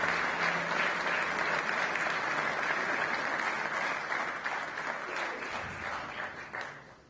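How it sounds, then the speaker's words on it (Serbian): Sustained audience applause at a sports-of-the-year award ceremony honouring an athlete, loud and steady for several seconds before gradually thinning toward the end, with no talking over it. "Molim vas još jedan veliki aplauz za Dejana Majstorovića."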